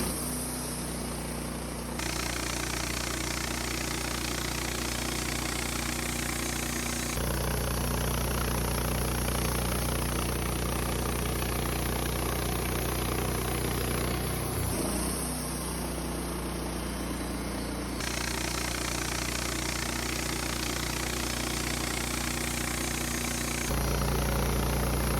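Woodmizer LT15 sawmill milling a large incense cedar log: a continuous loud engine drone with a steady low hum, shifting in tone as the blade works through the cut, with a brief knock midway.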